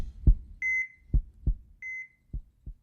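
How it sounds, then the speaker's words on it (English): Deep, soft thumps beat in pairs at a steady rhythm, alternating with short electronic beeps, like a monitored heartbeat. "Where'd you get that heartbeat from?"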